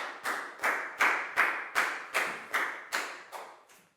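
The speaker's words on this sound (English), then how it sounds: "Big round of applause for Prel" A Year 4 maths class claps for a student, about ten distinct, evenly spaced slaps in a steady rhythm, close and clear with nothing else over them.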